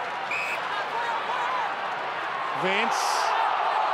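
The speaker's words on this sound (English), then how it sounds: "Crowd finding some voice all of a sudden" Evening AFL match crowd of over 11,000 at Richmond versus Adelaide Crows, 2009, a broad steady roar swelling slightly, heard behind continuous commentary.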